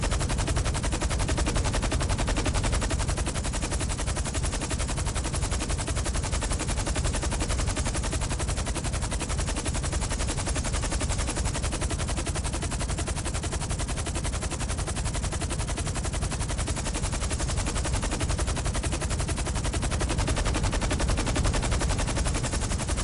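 Sustained automatic gunfire in GTA Online, dense and loud bursts running almost unbroken for over twenty seconds with no talking.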